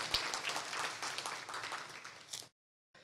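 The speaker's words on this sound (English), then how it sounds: "let's give our ladies a round of applause" Audience at an athletic fundraiser evening clapping in steady applause for about two and a half seconds, fairly faint and diffuse, then breaking off into silence.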